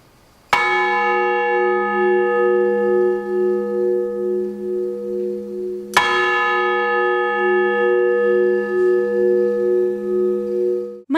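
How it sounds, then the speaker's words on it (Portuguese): Church bells in the historic town of Mariana, Brazil, struck twice several seconds apart. Each stroke is loud and close and rings with a long, sustained humming decay that carries on until the next strike. "A linguagem dos sinos e a tradição marianense."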